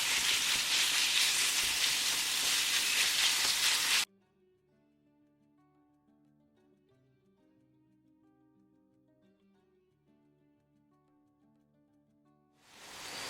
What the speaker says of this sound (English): lamb keema, and break it and keep mixing and keep breaking like this